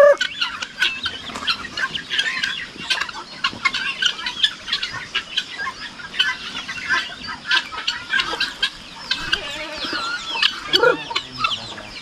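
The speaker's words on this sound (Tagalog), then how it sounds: "Pinakawalan namin yung mga sisiw namin dyan, oh." Chickens and chicks cluck and peep continuously around a farm hut on a cold morning, many overlapping calls near and far with frequent sharp squawks and chirps.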